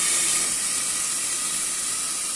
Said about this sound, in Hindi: तेल गर्म हो गया है अब इसमें डालेंगे खड़े गरम मसाले और खड़े गरम मसालों के चटक जाने के बाद